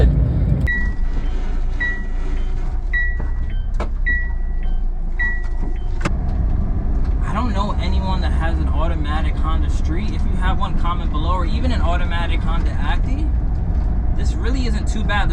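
A Honda Street kei van accelerates, its engine rising to a continuous drone with road rumble inside the cabin, while a few high beeps sound early on and people talk over the later part.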